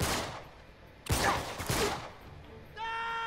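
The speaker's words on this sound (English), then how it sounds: "Stop shooting at me." Gunfire bursts in the video game Uncharted 3: Drake's Deception, set in a castle museum, with several sharp broadband shots followed by a steady tonal game sound near the end.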